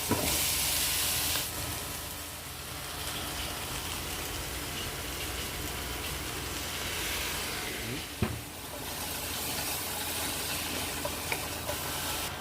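Chicken and vegetables stir-fry in a hot pan, giving a loud continuous sizzle with occasional scraping stirs and a brief clatter partway through.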